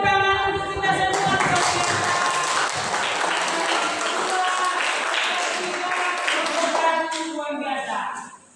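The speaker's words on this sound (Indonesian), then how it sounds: "demikian tepuk tangan untuk kita semua" Sustained applause and clapping from a classroom of students, loud and steady for about eight seconds before tapering off, with voices mixed in.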